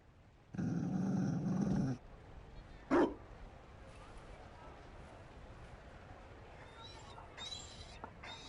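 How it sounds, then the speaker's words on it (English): A Mabari war dog in the video game Dragon Age Inquisition gives a loud, rough growling burst lasting over a second, then one short sharp bark, followed by quiet game ambience with faint chimes. "You found a dog? They don't breed Mabari in Olay."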